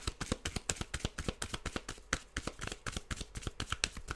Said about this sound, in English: I'm a little bit fumbly with the cards today.